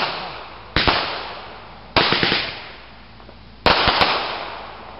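Fourth of July fireworks in a backyard bursting three times, each a loud sharp crack followed by a crackling decay, spaced about a second or more apart, with no talking.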